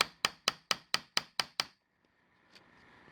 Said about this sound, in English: I might just get a hammer and screwdriver and just do something like this.